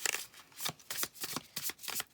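Archetype cards shuffled by hand in quick riffling bursts, about seven close, crisp flurries of papery slaps with brief gaps between, loud and alone with no voices.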